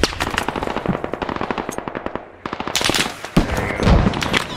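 Automatic weapons fire in the military shooter game Squad, a long rapid string of close, loud machine-gun bursts, then a brief pause and more heavy shots.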